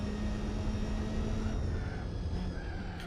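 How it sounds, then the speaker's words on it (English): Steady droning car engine from the Gran Turismo 4 racing game, a continuous loud hum with a sustained tonal whine and no pauses, heard alone without talk. "That engine sounds like the kind of thing you will hear in some black hole experiment."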